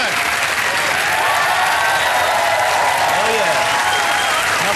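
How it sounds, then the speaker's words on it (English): Loud, dense applause from a studio audience at a comedy show, sustained and close, with faint voices mixed into the clapping. "keep that applause going"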